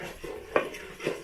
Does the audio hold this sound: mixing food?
yes